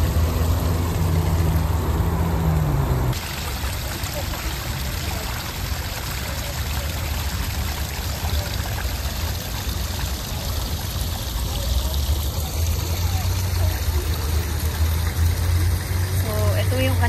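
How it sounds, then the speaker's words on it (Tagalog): A small waterfall pours with a steady, broad rushing wash that stays constant throughout. Voices talk over it, and a low engine-like hum runs underneath. "Meron siyang mini falls."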